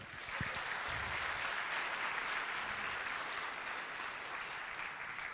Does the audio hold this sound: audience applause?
yes